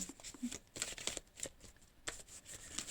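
A deck of tarot cards being shuffled by hand, a quiet close run of soft riffling flicks and slaps in an irregular rhythm with no voice.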